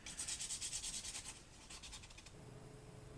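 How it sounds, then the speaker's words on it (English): Rhythmic rubbing strokes of sandpaper on a carved wooden fish, quick back-and-forth scratching close by, easing off into quieter, slower passes. "Now I'm done sanding off the fish and cleaning up all the details"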